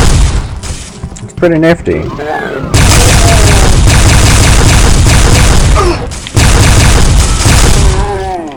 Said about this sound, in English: This is what the wave beam does.